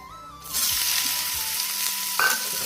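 Dried red chillies and black cumin seeds hit hot oil, a sharp sizzle bursting in after a brief quiet start and hissing steadily, close by, with a second flare near the end.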